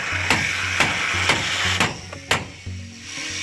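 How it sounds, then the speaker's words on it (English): A hammer bangs a rod down flush into soft timber during a building's tie-down, several sharp evenly spaced blows about half a second apart, close and loud over a steady background hum. "we just get the hammer and bang it down below flush"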